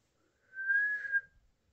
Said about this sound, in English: People don't know how to whistle